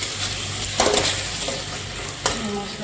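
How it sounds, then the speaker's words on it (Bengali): Hilsa fish frying in a light amount of oil with spices, a continuous close sizzle with a couple of louder bursts of spattering and stirring. "তাই হালকা করে তেল মশলা দিয়ে রান্না করছি ইলিশ মাছটা"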